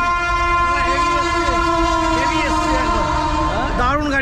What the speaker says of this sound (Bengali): দারুণ গাড়ি এসছে, দারুণ গাড়ি